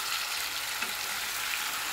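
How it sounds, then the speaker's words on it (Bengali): Boiled potatoes dropped into a hot frying pan for a vegetarian chhana dalna, giving a steady broadband sizzle of oil throughout with no voices. "হ্যাঁ, সেদ্ধ করা আলুগুলো এতে দিয়ে দেবো।"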